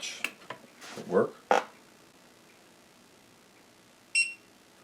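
An Amiga A600 with an RGB-to-HDMI adapter gives one short, clear electronic beep near the end as it boots, after a few handling knocks and rustles.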